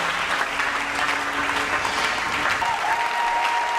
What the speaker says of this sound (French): J'ai besoin encore de beaucoup d'acclamations.